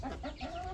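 A young pullet hen clucks in a backyard chicken coop, a short run of soft, close murmuring clucks ending in a brief sharper note.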